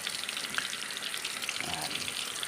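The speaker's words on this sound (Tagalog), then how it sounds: "Nagprito ako dito ngayon ng tokwa." Tofu frying in a pan gives a soft, continuous sizzle and spatter, fairly quiet and without talk.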